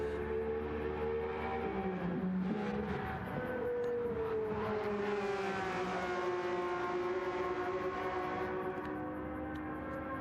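Ferrari race car engine in a Le Mans endurance racing video game, a continuous rough roar whose pitch wavers and sweeps down and up through gear changes, loud and unbroken, with no voices.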